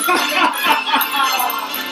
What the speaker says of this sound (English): I hear those jingle bells